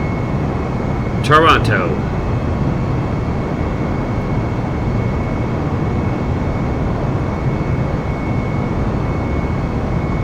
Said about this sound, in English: Let's release that parking brake and hit full throttle and get this aircraft off the ground and flying to